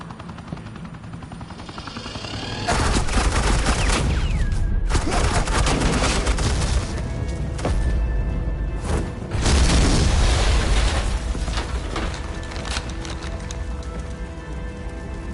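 Heavy suppressing gunfire from Batman: The Enemy Within bursts in as loud sustained automatic fire with booming impacts, easing for a moment and then surging again over a low rumbling backdrop.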